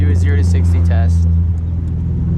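A car being pushed through the gears up to third during a 0 to 60 acceleration run, a loud droning engine note that holds steady and then shifts, close by, with a voice talking over it.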